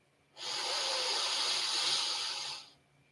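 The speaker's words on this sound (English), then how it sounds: "Breathing in" A slow, deep inhalation during a guided relaxation meditation: one steady, breathy rush of air that lasts about two seconds, close and clear against a quiet background.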